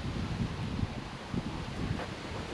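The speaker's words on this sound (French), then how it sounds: "Il fait beau, il y a du vent, un petit vent" A light breeze blows outdoors in fine weather, making a steady, close rumble of wind noise across the microphone with small gusts. No one talks.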